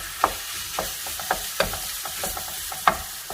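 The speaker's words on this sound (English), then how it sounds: "I'm gonna go in with my marinated pork." Marinated pork fries in a preheated pan with a little cooking oil, a close, continuous sizzle broken by several sharp clacks and scrapes of a utensil moving the meat, with no talking.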